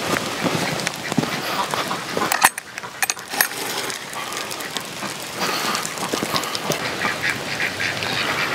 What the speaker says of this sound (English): the duck pond is doing really well